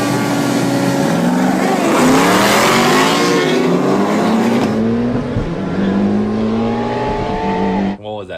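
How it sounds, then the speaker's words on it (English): A car street racing against street bikes, with loud engines roaring and revving close by, the pitch climbing through gear changes in a dense, continuous, overlapping drone that cuts out abruptly near the end. "I caught a video of this guy street racing some street bikes"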